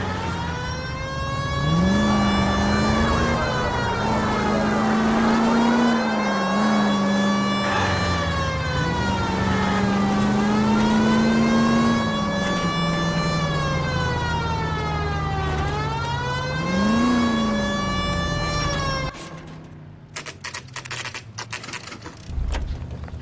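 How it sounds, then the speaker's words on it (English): In the game L.A. Noire, a car pulls out of a driveway with its siren wailing. The loud siren rises and falls steadily over the engine and cuts off near the end, leaving scattered rustling and knocks. "That's the car, Cole. Just pulling out of the drive."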